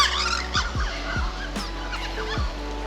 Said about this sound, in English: The birds are just singing at the sunset.